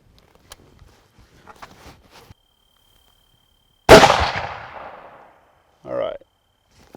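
A rifle firing a 200 grain monolithic CX bullet at a moose-hunting range: one sharp, loud report that rings and decays over about a second and a half. Faint handling noises come before it, and a short voice comes after.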